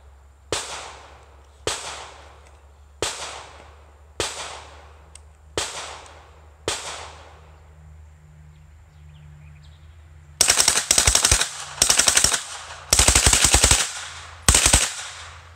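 CZ Scorpion firing with a Franklin Armory binary trigger: six sharp, evenly spaced single shots with ringing decay, followed by several quick bursts of closely paired rapid shots, loud and close at an outdoor range.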